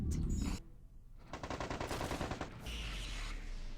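Bursts of gunfire from enemy units shooting at base walls in the MechCommander 2 strategy game, a dense rattling volley of rapid shots following a loud opening blast, sustained and close.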